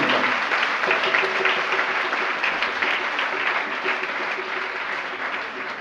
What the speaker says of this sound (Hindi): एक बार संपूर्ण परिवार के लिए जोरदार तालियां बजाओ।